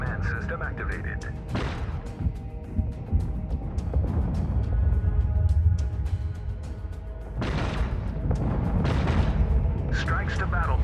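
Booming explosions and rapid gunfire crackle through a space battle between battleships and aircraft in the game Infinite Lagrange, layered over a steady engine-like rumble while a synthetic voice delivers combat announcements.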